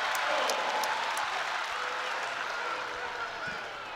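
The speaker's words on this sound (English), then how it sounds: "The crowd's getting excited." Crowd at a Big Ten college heavyweight wrestling match, a broad roar of cheering and applause that fades slightly toward the end, with a commentator's voice mixed in underneath.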